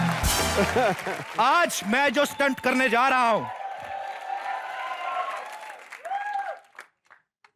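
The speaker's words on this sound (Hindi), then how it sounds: "जोरदार तालियां मेरे लिए।" A studio audience on a comedy talk show bursts into applause and cheering at the opening, with someone talking loudly over the crowd noise as it fades.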